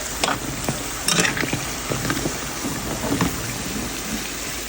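Yogurt chop sweets fry in hot oil, giving a steady loud sizzle with scattered crackles and pops, alone without talk.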